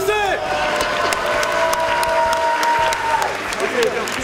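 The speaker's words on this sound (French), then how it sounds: "On applaudit directement. Applaudissez." Audience applause at a French live stage event with the France Five performers: a dense, steady roar of clapping that holds at one level for the whole stretch, with a few high tones and whistle-like sounds carried over it.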